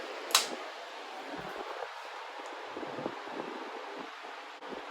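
A 1950s/60s Limit 16-inch desk fan runs on its low speed, giving a steady, fairly loud broadband whoosh of moving air with a slight flutter and no voices.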